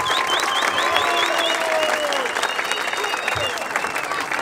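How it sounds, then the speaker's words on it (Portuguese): Crowd at the final of an outdoor rap battle in Barueri clapping loudly for two contestants, continuous dense applause mixed with whistles and shouts, with voices talking over it. "Palmas pra esses dois moleques de novo aí"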